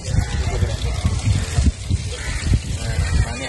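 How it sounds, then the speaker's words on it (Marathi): Water rushes from the tap of a newly installed water tank, a steady gushing flow heard close up while voices murmur nearby. "पाणी आलं बाबा"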